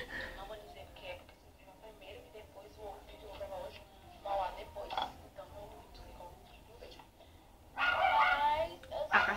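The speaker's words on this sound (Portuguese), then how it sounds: "Cachorro latindo, tá vendo?" A dog barks in short bursts, faint and somewhat distant, with a louder cluster of barks near the end, while people talk over it.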